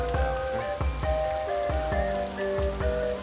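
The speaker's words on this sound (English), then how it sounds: "And it's raining a lot, too." Steady rain patters and splashes in the OpenRCT2 park-building game, a dense continuous downpour with scattered louder drops, alone and fairly close.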